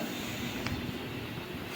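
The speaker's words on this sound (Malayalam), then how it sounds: "ട്രെയിൻ ദേ നമ്മുടെ കുണ്ട്ര സ്റ്റേഷനിൽ വന്നിരിക്കുകയാണ്" A steady low rumble and hiss of a MEMU train arriving at Kundara station on the Kollam–Punalur line, heard quietly as if from inside a carriage.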